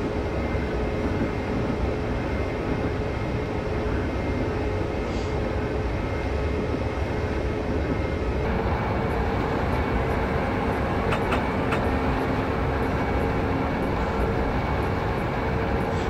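A BR151 electric locomotive hauls along the Berlin–Wittenberg line in Train Simulator 2016, a steady, loud broadband rumble of motor and wheels on rail that runs unbroken, with faint high whines and clicks toward the end.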